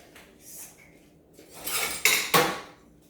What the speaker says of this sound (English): Now I'm going to mix it.